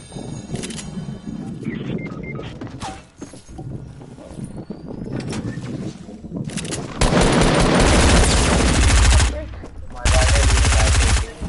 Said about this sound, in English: this SMG is like melting everything